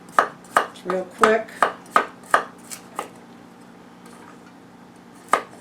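Escarole being sliced on an angle with a knife on a cutting board, about nine crisp, evenly spaced chops, then a pause and one final cut. A voice speaks briefly between cuts.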